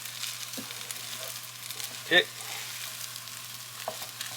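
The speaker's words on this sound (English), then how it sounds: "you want to stir pretty frequently and vigorously, so we can let that rice and egg cook together perfectly" Rice and egg stir-fried vigorously in a pan, with a steady sizzle and a sharp scrape of the utensil partway through, close up under a brief spoken comment.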